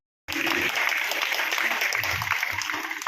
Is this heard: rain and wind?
no